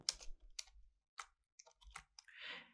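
Keystrokes on a computer keyboard while entering a command in the Windows 11 Command Prompt: a handful of separate clicks and taps with short gaps, close and fairly clear, ending in a softer, longer rustle, with no talking.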